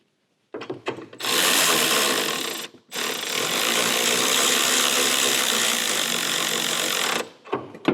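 A ratchet spins down a short bolt on a dual battery mount under the bonnet of a Toyota Prado 250, loud and close, two long steady rasping runs separated by a brief pause, with a few clicks at each end.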